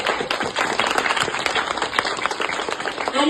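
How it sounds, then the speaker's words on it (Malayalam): Applause from a school audience at a school library event, a steady dense patter of many hands clapping together throughout, fairly loud and close, with no talking over it. "നമുക്കൊരു കൈയടി കൊടുക്കാം"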